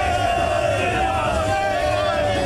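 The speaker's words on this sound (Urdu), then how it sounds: "جیل کے باہر کارکنان اپنے قائد کے لیے نعرے لگاتے رہے" A large crowd of party workers outside a jail chants slogans for their leader, a loud, continuous mass of voices with sustained shouted tones that does not let up.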